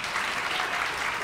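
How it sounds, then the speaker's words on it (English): Brief burst of audience applause at an indoor awards event, dense steady clapping from a crowd. "One more round of applause, please."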